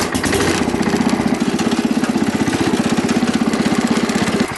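A Wheel Horse lawn tractor engine runs steadily while driving, a loud, close, even single-cylinder chug throughout.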